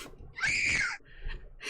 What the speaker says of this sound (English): Okay, so Girly Scream.